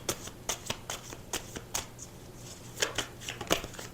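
A tarot deck being shuffled by hand, with sharp riffling bursts coming in uneven clusters about every half second, close and fairly quiet, no voices.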